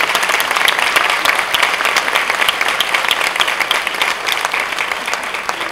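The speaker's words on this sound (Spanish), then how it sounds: "Qué lindo, es un aplauso." Audience applauding steadily and loudly at a poetry and storytelling festival in Lajas, with dense clapping sustained throughout and no speech over it.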